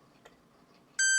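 A Maxitronix ferromagnetic substance detector lets out a sudden, loud steady electronic beep after a second of quiet background hiss, with only a faint knock before it.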